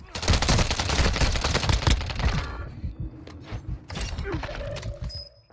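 Rapid Warzone Mobile gunfight, with dense automatic gunfire hammering steadily for about two seconds, then thinning to scattered, quieter shots and mechanical clicks.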